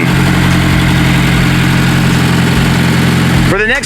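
A Honda S2000 CR sports car engine idles steadily with a deep, even rumble up close, ending in a quick rev.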